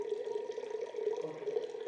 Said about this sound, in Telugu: నీళ్ళు దిగుతున్నాయి మెల్లగా.